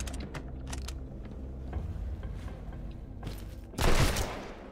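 Rapid gunfire from a video game set in a drowned world, sharp bursts of shots in quick clusters with mechanical clacks between them, ending in a louder, denser volley near the close.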